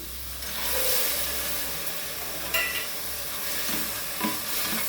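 Potatoes and soaked peas sizzling in a pan for methi pulao, a close, steady hiss of frying with a few soft stirring knocks.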